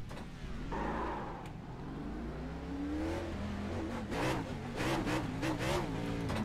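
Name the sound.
Chevy Camaro ZL1 engine in iRacing video game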